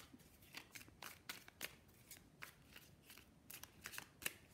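Tarot cards being shuffled close up in a quiet room, a series of crisp riffling flicks and slaps in irregular bursts, faint and alone without speech.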